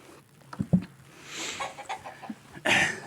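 Backyard chickens kept as household pets give scattered short clucks and squawks close by, rising to a louder burst at the end, with no one speaking.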